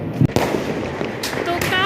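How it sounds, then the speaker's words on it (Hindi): Firecrackers bursting on Diwali night: several sharp, loud cracks go off close by in quick succession, with a continuous din of more distant bangs and crowd noise underneath. "चारों तरफ से पटाखे फट रहे हैं देखिए"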